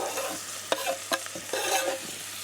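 Chopped vegetables and sweet potato are stirred in a hot pan: several scraping, clattering strokes over a soft, steady sizzle. A faint low hum sits under them and no one speaks.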